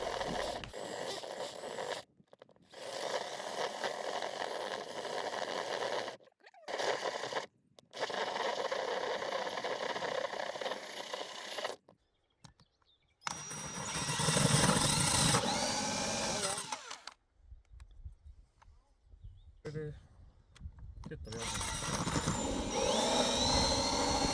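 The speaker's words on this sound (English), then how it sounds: "We then drill from the outside using the same pilot hole." Loud power drilling through a wall from outside, in long bursts with short pauses between, grinding and whining steadily, close by and with no talking.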